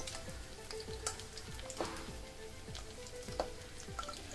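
Chicken lollipops fry in oil over a low flame, giving a steady close sizzle and crackle with occasional small pops and faint stirring, and no voices.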